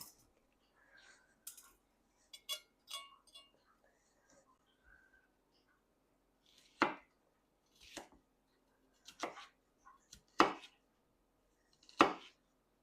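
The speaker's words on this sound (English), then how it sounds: "there are lots of different ways that you can trim off a pepper." A knife trims a yellow pepper on a cutting board, landing several distinct, well-spaced chopping cuts. Soft, whispery speech comes before the cuts and can be heard between them.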